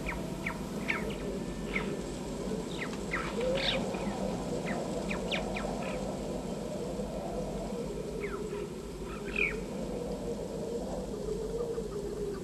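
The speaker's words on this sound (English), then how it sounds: "Using a chirping alarm call, the marmot warns others of danger." Faint, sharp alarm chirps from a marmot in Ladakh, India, repeat irregularly over steady wind-like background noise, distant and thin.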